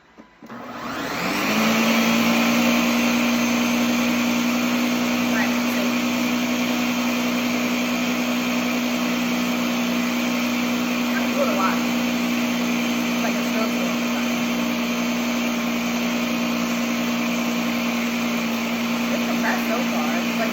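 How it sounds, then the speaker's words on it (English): A loud, steady motor whir starts after a brief quiet moment and runs unbroken, a smart blender spinning at constant speed. "That's what you get with a smart blender, I guess. Maybe I'll start it again and see what happens."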